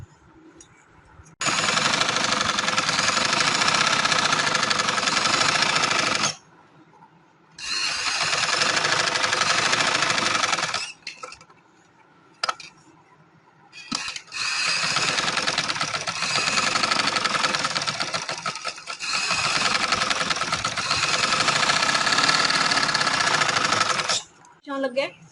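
Electric sewing machine stitching the neckline of a designer suit, running in long steady whirring bursts separated by short pauses, loud and close, with no talk over it.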